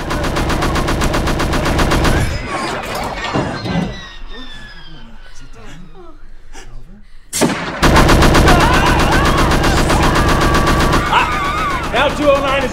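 Rapid, loud bursts of automatic cannon fire from an ED-209 robot in a homemade Robocop remake, two long volleys separated by a quieter stretch with crackling debris and ringing tones.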